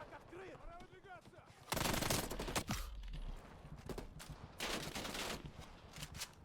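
In Call of Duty Black Ops Cold War, a light machine gun fires loud, rapid bursts of automatic gunfire in two main volleys, preceded by a brief voice and quieter in-game sounds.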